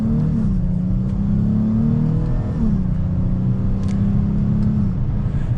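A 2022 Dodge Charger GT AWD accelerates hard, its engine note rising steadily, dipping briefly at a shift, then climbing again, loud and close throughout with no talking.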